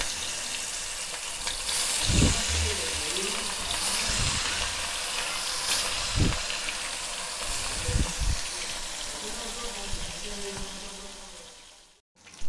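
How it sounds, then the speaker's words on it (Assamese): Rohu fish pieces sizzle and crackle steadily in hot oil, with a few soft bumps and clatters of utensils along the way. "তেল গৰম হ'ল মই এতিয়া মাছ কিপিস ফ্ৰাই কৰি লওঁ"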